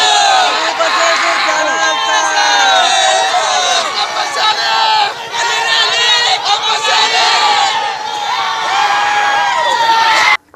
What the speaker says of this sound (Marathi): निकाल जाहीर होताच नार्थकोट प्रशालेच्या बाहेर हसापुरे समर्थकांनी एकच जल्लोष केला